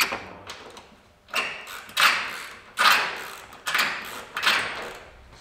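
A rusty bolt and the clip it is attached to turning in place as it is unscrewed during a car rebuild, giving four or five close, grinding ratchet-like creaks at roughly regular intervals, with no talking.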